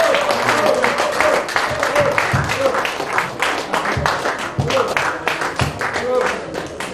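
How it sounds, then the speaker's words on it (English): Applause from a conference audience at a freedom of religion gathering, a dense wash of clapping sustained for several seconds, fairly loud and close, with voices mixed in. "A round of applause for Baba."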